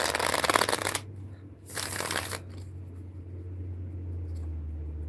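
A Haunted House Tarot deck is shuffled in two quick riffled bursts of crisp card flutter, close and loud, followed by a quiet room hum.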